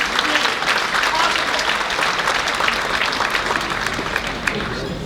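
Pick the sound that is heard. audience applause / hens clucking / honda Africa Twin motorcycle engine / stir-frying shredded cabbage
audience applause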